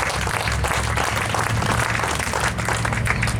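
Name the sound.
audience applause for heritage council supporters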